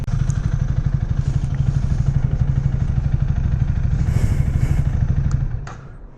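A motorcycle engine idles steadily nearby in a motorcycle parking area at Umihotaru parking area, Japan, with a fast, throbbing low rumble, plus light clatter, before fading slightly at the end.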